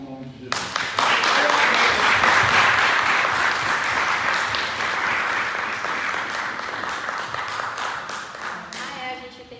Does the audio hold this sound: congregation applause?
yes